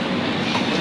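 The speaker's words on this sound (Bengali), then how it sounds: "ঘন ঘন ধরে ট্রেন ঢুকতেই আছে।" A train rolls through a busy station, with a steady, close, broadband rumble of wheels and carriages and no talk over it.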